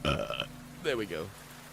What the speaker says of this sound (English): Why do I have to burp when I drink tea?